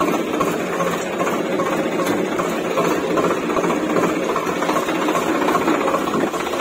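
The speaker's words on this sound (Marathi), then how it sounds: "म्हटलं लगेचच ट्रॅक्टर चालू करावं लागणार आहे।" A tractor engine runs steadily on a farm during crop spraying, a loud, even mechanical drone with a dense buzzing texture that holds without a break for several seconds.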